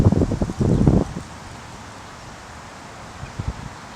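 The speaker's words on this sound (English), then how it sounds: "All the wind right now. All that camera shake is the wind." Outdoor wind buffets the microphone in heavy, rumbling gusts at the start, then settles into a steady, soft rush with a few brief thumps later.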